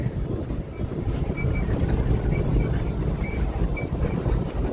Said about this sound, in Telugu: కిటికీలో మంచి గాలి వస్తుంది,